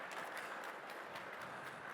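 Guests at a topping out ceremony for a data center in the Baltics give a round of applause, a soft, steady patter of many hands heard from a distance without a break.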